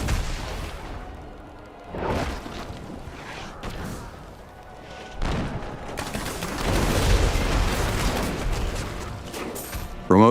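Demon Hunter sentry turrets firing in the video game Diablo 3, a busy fight with bursts of rapid fire and booms rising and falling, plus a loud impact at the very end.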